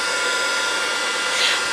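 A heat gun blows hot air in a steady, loud, broadband whoosh that runs alone and unbroken, with a slight rise in pitch near the end.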